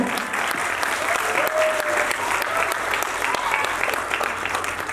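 A hall audience at a talent award show breaks into steady, sustained clapping to welcome a guest, a dense even wash of applause with no voices over it.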